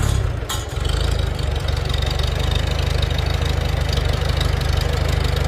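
A Farmall Super C tractor engine idles steadily in neutral, warm and running close by, a loud continuous low chugging throughout with no talk.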